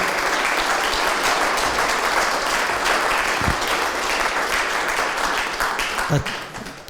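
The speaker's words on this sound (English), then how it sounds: "I think we should give him another round of applause." A lecture audience at a community talk on a town's smallpox history gives a full, sustained round of applause that stays loud throughout, then begins to taper off in the final second.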